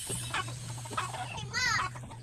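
A mother hen clucks near the end, a short close cluck over a steady low hum and faint background noise.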